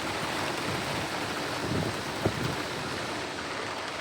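Rain falls outside an overland camper while a Maxxair Maxxfan Deluxe roof fan runs, making a dense, steady hiss that continues without a break and carries only a faint thump partway through.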